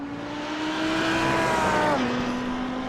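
Marlboro-liveried Audi race car in a sim racing league event at Watkins Glen, its engine a steady high drone whose pitch holds and then steps down as it shifts.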